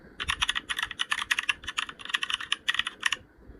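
A typewriter-style typing sound effect: a quick, steady run of crisp key clacks in small bursts, fairly close and clear, with no voices over it.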